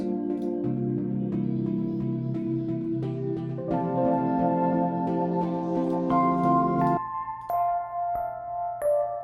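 Sustained synth chords with a warm overdriven edge and pulsing tremolo, changing every couple of seconds, echoing delay trails ringing out at the end.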